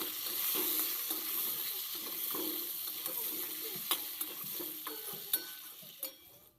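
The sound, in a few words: eggplant pieces frying in oil with turmeric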